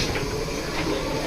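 Steady rumble and hiss of a moving passenger train heard from inside the carriage, a short continuous stretch of even noise with no talk.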